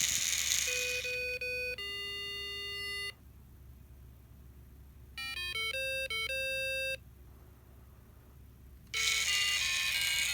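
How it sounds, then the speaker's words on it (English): Snap Circuits arcade kit speaker bursting out electronic beeps and ringtone-like melodic tones in short runs separated by pauses, with a faint motor hum from the spinning disco motor underneath. "The speaker will make random noises, the LEDs will turn on and off, and the disco motor will spin and light up"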